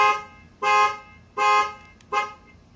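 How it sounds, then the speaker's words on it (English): A Ford F-150 truck horn honks four times as a panic alarm in a steady repeating pattern, loud and close, with short pauses between each blast. "This is the panic alarm right here."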